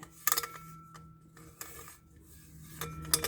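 A spoon scraping food out of a dish, several short metallic scrapes and clinks spaced apart, fairly close, with quiet pauses between them.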